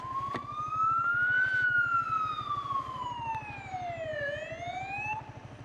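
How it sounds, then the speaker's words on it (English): An emergency vehicle siren wails loudly, sweeping up and down in pitch, with a low engine rumble underneath. "I hear sirens."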